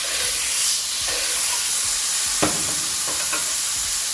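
Steak frying in duck fat in a pan gives a steady, dense sizzle and hiss throughout, with a few brief louder crackles and spatters near the middle.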